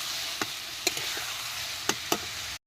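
Ground chili, cumin, ginger and garlic paste sauté in hot oil, a steady soft sizzle running throughout with a few sharp clicks of a stirring spoon against the pan.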